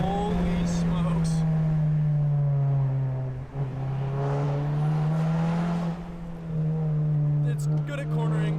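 Volkswagen Mk7 GTI driving with a very loud exhaust, a steady deep drone holding through the clip while a voice talks over it.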